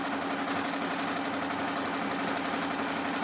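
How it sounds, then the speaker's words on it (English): An embroidery machine stitching out a Dallas Cowboys logo, a steady fast mechanical whir and rapid needle patter running continuously at an even level throughout. "I am going to hit unlock and start. And so this is going to take 8 minutes to stitch out."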